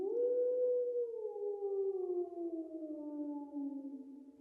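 A single wolf howl in the woods holds one long, steady, gradually falling note that fills the whole moment, clear and unbroken, with no voices.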